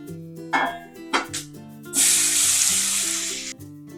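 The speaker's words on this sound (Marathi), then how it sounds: "ते आता बटाटा कांदा टमाटा ठेवला त्या फोडणीमध्ये टाकू" Potato, onion and tomato hit hot tempering with turmeric and curry leaves, bursting into a loud, steady sizzle after a few clanks and stirring taps, the hiss fading slightly before stopping.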